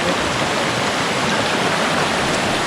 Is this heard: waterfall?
yes